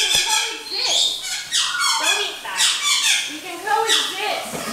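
A pet parrot throws a tantrum, letting out loud, close, repeated squawks and screeches with rising and falling pitch, almost without pause.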